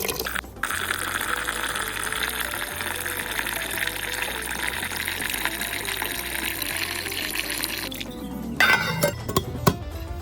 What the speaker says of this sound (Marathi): चांगलं स्वच्छ धुवून घेऊन परत दुसरं पाणी भरून ठेवायचं